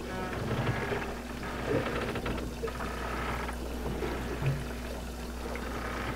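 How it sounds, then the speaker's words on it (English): Wind and water slosh against the side of a boat, a steady, fairly faint wash with scattered small splashes and no voices. "it's wonderful to sleep to hear the water like splashing against the side of the boat in the wind"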